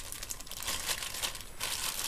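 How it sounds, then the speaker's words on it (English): A plastic bag holding syringes is crinkled and handled close by, quiet rustling and crumpling in uneven bursts with no talk. "Now in our plastic bag,"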